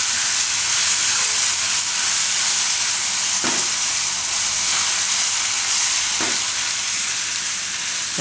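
Chili powder, Kashmiri red chili and spices being stirred in a hot pan for a papad and chili curry, with a steady loud sizzle and hiss throughout and a couple of brief scraping stirs.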